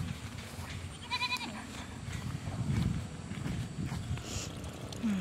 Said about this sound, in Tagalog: Pasaway na kambing nasa gitna.